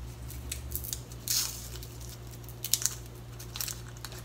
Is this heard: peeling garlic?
yes